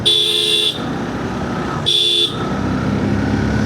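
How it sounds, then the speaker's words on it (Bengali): A Hero Xtreme 160R motorcycle horn sounds two short loud honks on a highway, separated by about a second, over continuous engine and wind noise. "আমি হর্ন দেই বেশিরভাগ ক্ষেত্রে হচ্ছে সামনের যে গাড়িটা আছে তাকে আমার উপস্থিতি বোঝানো"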